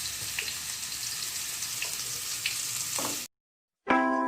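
Carrots stir-fried in a hot pan for capcay sizzle loudly and steadily up close, with a few stirring scrapes, then a sudden cut to silence before the frying resumes.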